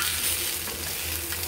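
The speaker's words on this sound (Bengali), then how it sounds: "চলে এসেছি আবারও মাছের কাছে, মাছ ভাজার কাছে।" Pieces of rohu fish frying in oil in a pan, giving a steady, close sizzle with light stirring and scraping throughout.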